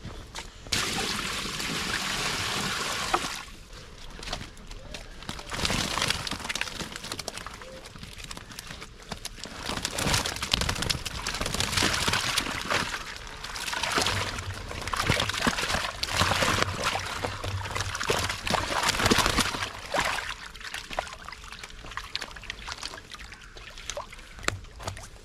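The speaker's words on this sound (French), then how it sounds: "Je remets juste un petit peu d'eau." Water is poured into a fishing keep net, a continuous trickling and splashing that rises and falls over about twenty-five seconds, with handling knocks and rustles mixed in.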